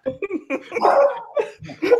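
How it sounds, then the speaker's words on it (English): A dog barks in a burst of short, loud, uneven yelps and woofs, close by, mixed with what may be people's voices in the room. "Now it sounds like a dog."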